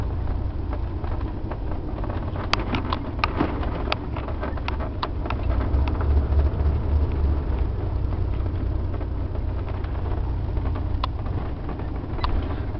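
A 1985 Pace Arrow Class A motorhome shifting through its gears while driving, a loud steady low engine and road rumble with wind buffeting the microphone and faint rattles, no clear break between shifts.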